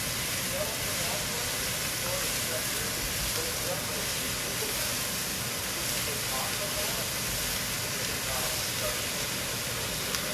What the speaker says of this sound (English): it's just olive oil for frying it down in